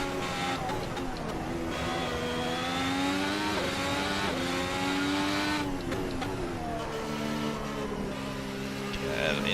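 Ferrari race car engine in Assetto Corsa, a loud continuous high-revving whine that climbs and drops through gear changes, a 2017 works Ferrari at full speed, with someone talking over it.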